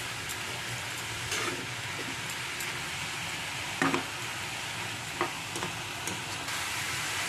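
Vegetable sandwich filling sizzles and fries steadily in a pan over medium-high heat, with a few soft scrapes of a spoon stirring it, close and continuous with no talking.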